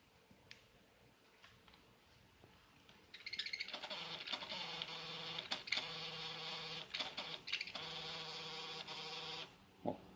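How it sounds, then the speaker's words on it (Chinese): An MSI GS63VR laptop with a faulty fan is quiet at first, then the fan starts up into a loud, steady buzzing whine with rattly ticks. The noise holds for several seconds before cutting off near the end. "客户反映的问题是风扇异音"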